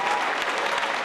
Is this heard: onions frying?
no